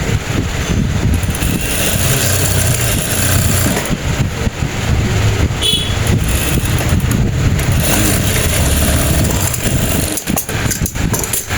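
A sewing machine stitches women's pajama pants, its motor running in a continuous mechanical hum and whir, steady and close for the whole stretch.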